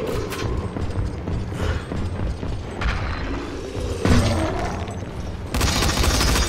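Gunfire and mechanical clatter from the video game Dying Light The Following, a dense, continuous barrage of loud shots and crunching impacts with no speech.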